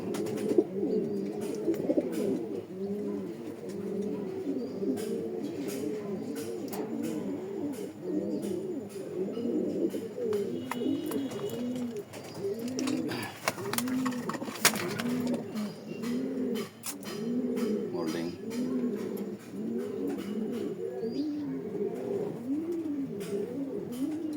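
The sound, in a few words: racing pigeons cooing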